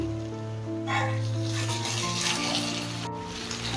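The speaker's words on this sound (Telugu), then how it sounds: "కొన్ని వాటర్ యాడ్ చేస్తున్నాను" Water pours steadily into a pot of tomatoes for a curry, with a continuous hissing splash, fairly close, alongside a faint tonal hum in the background.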